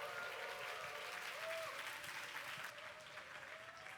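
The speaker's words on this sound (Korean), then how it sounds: "다시 한번 더 청년이 줄 수 있는 함성과 우리 환영의 박수로 올려드립니다." A church congregation at Suwon Central Baptist Church's youth service bursts into dense, steady applause with some cheering, welcoming a pastor to the front; the clapping is sustained and fairly distant, gradually easing toward the end.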